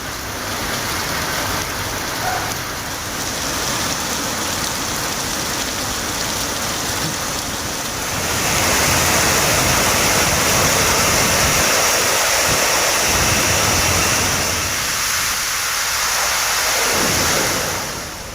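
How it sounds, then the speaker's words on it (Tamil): Heavy rain driven by strong wind in Ranipet, a dense, loud continuous hiss that swells further partway through, with gusty low rumbles and no voices. "ராணிப்பேட்டை மாவட்டத்தின் சுற்றுவட்டார பகுதிகளில் 1 மணி நேரத்திற்கும் மேலாக பலத்த காற்றுடன் கனமழை பெய்து"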